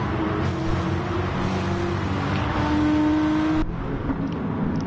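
Corvette race car engine in a racing video game, a loud steady droning engine note with a rising whine, holding near and constant before easing off at the end, with no talking.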